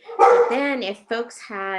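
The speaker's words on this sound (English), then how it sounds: "I'm sorry about the dogs." Dogs bark and yip close by indoors in a series of short bursts, mixed in with a person talking over them.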